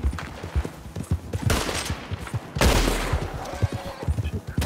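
Gunfire in Red Dead Redemption 2: a rapid, irregular volley of close, punchy shots with two heavier bursts and lingering rumble, no voices.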